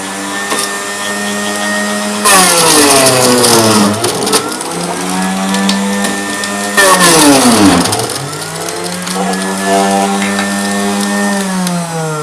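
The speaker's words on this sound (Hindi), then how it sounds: "कैरेट का हम जूस निकाल लेंगे।" A carrot juicer machine whines steadily at high speed, its motor pitch dipping sharply twice as carrots are pressed in, then recovering; loud and close with no talking.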